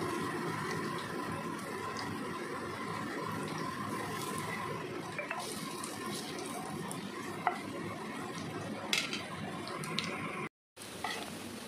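Vegetables fry in a small amount of oil in a pan, producing a steady soft sizzle with stirring scrapes and light clinks, close and moderate in level, with a brief silent break near the end.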